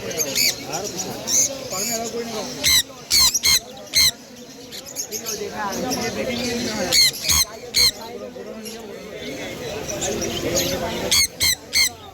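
Sun conures at the Galiff Street bird market in Kolkata let out repeated shrill, piercing squawks in short bursts close by, over the constant crowd noise of the market, with someone talking throughout.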